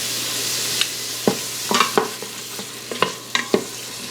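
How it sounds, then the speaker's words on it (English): Food sizzles in an Instant Pot on saute mode while a flat-topped utensil stirs it, giving close scraping clacks at irregular intervals over a steady frying hiss, with no talking. "we're going to let this saute for a little bit"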